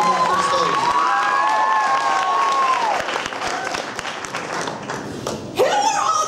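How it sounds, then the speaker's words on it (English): An audience at a school talent show claps and cheers steadily and loudly, with shouts and whistles rising over the applause and voices mixed in throughout. "So give them a big round of applause and welcome to the stage."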